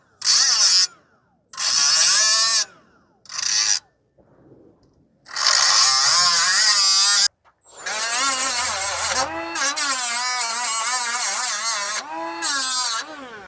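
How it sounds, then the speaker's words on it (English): Angle grinder cutting through a front exhaust pipe stud on a 2015 Toyota Sienna AWD 3.5 V6, loud and close, in several bursts of high whining grind with short pauses between them and a long sustained run at the end. "So we're just going to keep on grinding until you can see the circular piece."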